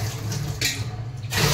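Water gushes from a kitchen tap as it is collected for cooking rice, a loud close splashing stream with bursts of louder flow, no talking.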